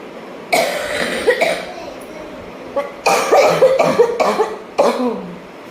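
Several harsh coughs come in bursts, a couple near the start and a cluster later, close and loud.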